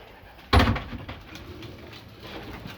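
Young racing pigeons in a loft give a soft coo after a brief knock or bump, with faint rustling and low, muffled calls continuing nearby.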